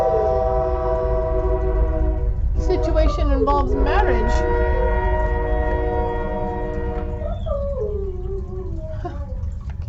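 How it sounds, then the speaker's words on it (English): A passing train sounds a long, multi-toned horn that holds and shifts pitch over the steady rumble of the cars, while a voice talks over it. "Here comes that train."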